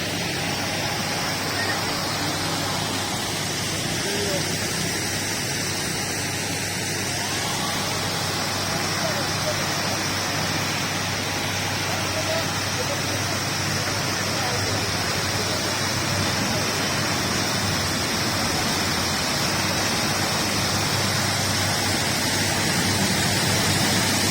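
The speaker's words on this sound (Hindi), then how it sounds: "ये आप देखें, यहाँ पे पानी का बहुत शोर है" Loud, continuous rushing water roars steadily in a small park in Lahore, a dense broadband wash that stays constant throughout, with someone speaking faintly beneath it.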